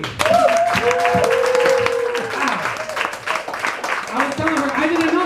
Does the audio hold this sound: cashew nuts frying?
no